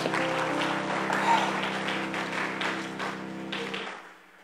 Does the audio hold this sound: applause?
yes